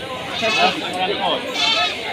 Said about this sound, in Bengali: এটা কী জাতের ছাগল